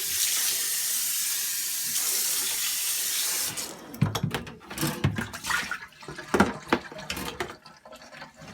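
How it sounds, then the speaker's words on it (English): Tap water streams steadily into a rabbit's litter box for a few seconds, then turns into uneven splashing and sloshing as the box is rinsed, close and fairly loud. "I can rinse it out."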